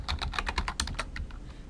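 Rapid run of keystrokes on a computer keyboard as code is typed, about a dozen close, crisp clicks in quick succession, trailing off near the end, with no talking.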